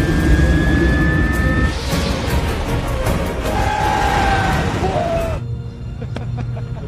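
A large airplane taking off in a disaster film set during a global catastrophe, a loud sustained engine roar with rising whines, dense and close, then cutting abruptly to a quieter low rumble near the end.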